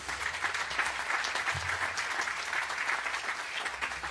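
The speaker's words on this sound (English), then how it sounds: "Give them a round of applause." A breakfast audience at a budget briefing gives a steady, moderately loud round of applause, with many hands clapping continuously and a faint low hum underneath.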